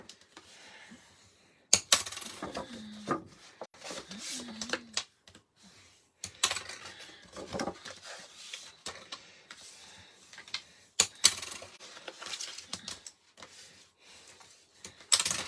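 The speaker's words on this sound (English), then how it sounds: "we are going to fold and burnish these score lines." Scored cardstock being folded and burnished along its score lines, giving close, irregular ticks, taps and soft rubbing scrapes with brief pauses between them.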